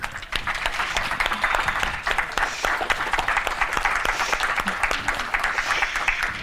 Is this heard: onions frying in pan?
no